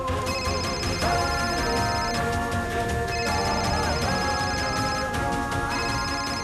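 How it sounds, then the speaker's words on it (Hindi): Telephone ringing in a tense Hindi TV drama scene, a repeating electronic ringtone with steady tonal bursts over background music and ambience. "किसका फोन है? किसका फोन है?"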